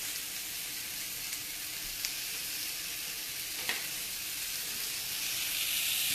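Crumbled Whole Foods breakfast sausage frying in a pan, a steady close sizzle and hiss with faint stirring clicks, no voices.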